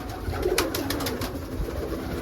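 Pigeons coo steadily in a large loft at feeding time, a dense overlapping chorus of soft throaty calls with faint fluttering and shuffling throughout, no voices.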